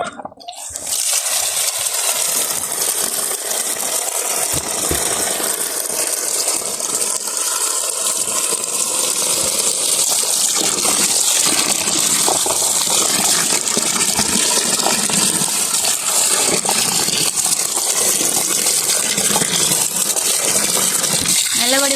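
Large chillies being washed under running water in a home kitchen while preparing salted chillies, a steady gushing splash that carries on throughout, loud and close, with occasional talk over it.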